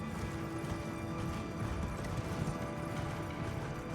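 A horse's hooves clip-clop steadily in Elden Ring during a ride toward a castle on Mt. Gelmir, a continuous rhythmic trot heard under a dense, constant game soundscape with no clear speech.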